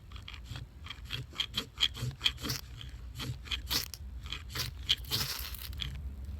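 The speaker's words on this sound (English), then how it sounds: "one of these edges is just scraping your ferro rod" A high-speed striker scrapes a ferro rod in a rapid series of short, raspy strokes, close and fairly quiet, with no talking.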